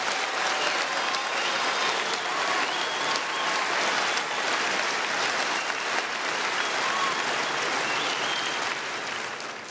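Audience at a family forum applauding in support of Supreme Court term limits, a steady, dense wash of clapping that holds for nearly ten seconds before easing slightly at the end, with no voices over it.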